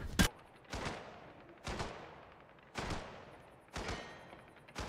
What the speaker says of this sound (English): Is it possible to die from those gunshots?